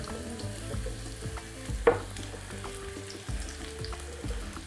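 Mushrooms frying in a pan, a soft, quiet sizzle with an occasional stir or clink of a utensil, close by and fairly faint.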